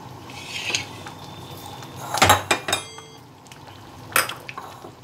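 Cooked masoor dal topped with coriander leaves being served from a pot into a bowl, with loud clinks and scrapes of a metal ladle against cookware and soft wet sloshes, close and intermittent.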